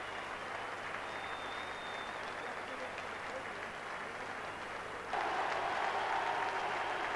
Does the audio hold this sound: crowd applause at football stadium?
yes